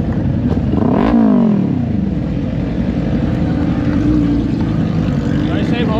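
A motorcycle with a Leo Vince exhaust at a big bike meet gives a quick rev that rises and falls early on, then settles into a steady nearby engine drone under people talking.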